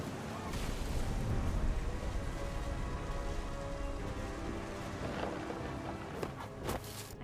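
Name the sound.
thunder and rain in the video game What Remains of Edith Finch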